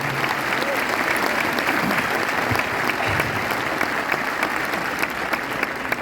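A seminar audience at a business success event claps in loud, continuous applause. The dense, even clatter holds at a constant level from start to finish.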